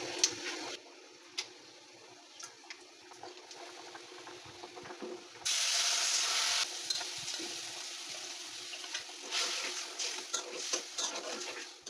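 Turmeric, chili, cumin, coriander, ginger and whole cardamom-cinnamon spices fry in oil for a cauliflower-potato curry, a soft low sizzle with scattered clinks and scrapes of stirring and one louder hissing burst midway.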